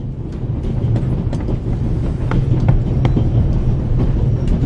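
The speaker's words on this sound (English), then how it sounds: "The noise on this train is driving me crazy." Steady rumbling of a moving train on the Orient Express, a continuous low roar with faint rattling clicks, loud and close as if heard from inside a carriage, with no talking.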